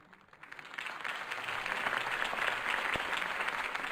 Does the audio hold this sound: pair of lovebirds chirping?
no